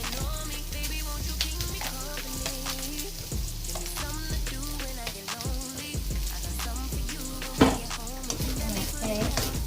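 Carrots, peas and shrimp sizzling in a hot pan, a steady crackling fry with scattered pops and occasional stirring scrapes, close and continuous with no talk.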